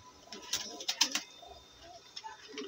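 Pigeons in a fancier's loft give soft, low coos in short, uneven bursts, with a few sharper chirps cutting in. The birds sound close, and a faint voice may sit underneath.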